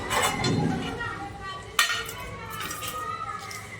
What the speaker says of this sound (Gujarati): હવે આપણે એમાં સિંગના દાણા નાખીશું.